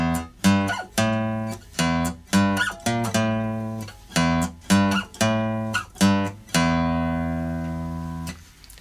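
Clean electric guitar picks out the riff as single notes, a slow rhythmic pattern of short phrases ending on one long sustained note that fades, close and clear with no talking.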